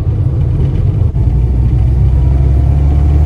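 Low, steady engine rumble from a 1989 Mini Mayfair with a 4-speed gearbox while driving, heard close and loud from inside the car with a constant droning hum and no talk.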